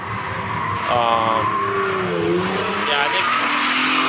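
Drift car lapping on a street drifting course, its engine whining and tyres squealing at a distance while someone talks over it.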